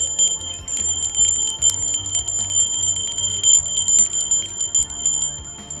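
Bells ring continuously in a dense, shimmering wash, with soft repeated strikes layered over a low hum.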